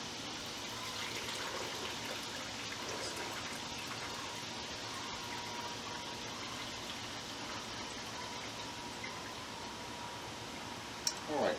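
Pork juice from a smoked Boston butt is strained through a fat separator, giving a faint, steady trickling pour that runs evenly, ending with a brief clink.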